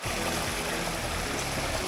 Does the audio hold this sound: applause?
no